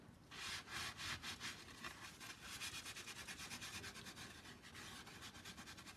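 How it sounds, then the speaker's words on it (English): Paint is rubbed off a print on a makeshift gel plate in steady, rhythmic strokes, giving a soft, continuous scrubbing close by without talk. "we're going to rub away some of the paint"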